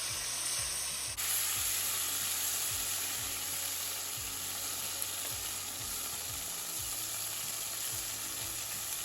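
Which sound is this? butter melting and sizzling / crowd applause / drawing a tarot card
butter melting and sizzling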